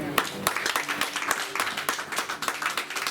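Congregation applauding during a French-language church sermon, a steady patter of many hands clapping in irregular bursts for about three seconds, with faint voices mixed in.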